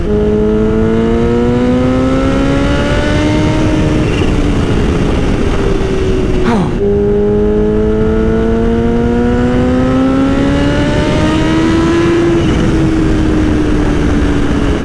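A Kawasaki Ninja H2 motorcycle's engine roars loud and close while being ridden, its pitch climbing steadily through the revs, dropping at a sharp gear change, and then climbing again.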